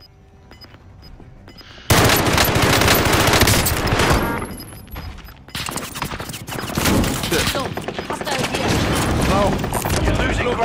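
Loud, rapid automatic gunfire in a Call of Duty Vanguard match breaks out suddenly and continues in dense bursts with short gaps, while a player shouts over the shooting.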